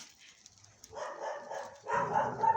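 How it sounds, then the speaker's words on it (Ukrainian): A Newfoundland dog growls and rumbles amid other dogs of mixed breeds, with low-pitched bursts that swell louder over the second half, close by and without talk. "Щось водолазочка гарчить."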